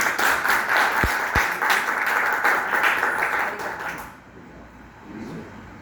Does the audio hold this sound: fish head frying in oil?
no